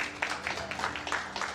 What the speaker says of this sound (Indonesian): Berikan tepuk tangan pada Tuhan.